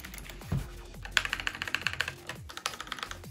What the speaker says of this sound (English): So these are the Cherry MX Blues. So they're tactile and very clicky.